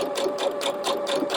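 A sewing machine stitches a fabric scrunchie in a steady, fast mechanical run of needle strokes with a faint motor hum underneath, close and moderately loud, with no voices.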